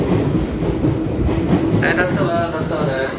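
A JNR 211 series 3000-subseries electric train, two sets coupled on a group charter, departs platform 5 at Tachikawa station with a rumbling rolling noise, wheel clatter and a faint whine close by, while a voice speaks.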